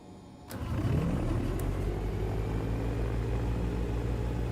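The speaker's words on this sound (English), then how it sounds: "let's get a start on the right engine" Right engine of a Diamond DA-62 twin starting in a flight simulator game: a quiet cockpit gives way to a sudden start, a rising whine and a steady loud idle drone that holds throughout.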